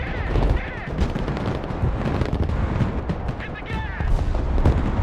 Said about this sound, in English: I think that's a cruise missile strike.